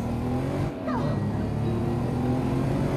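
A car engine in the video game Just Cause 3 hums and revs steadily at close range, with a brief pitch sweep partway through and continuous motor drone throughout.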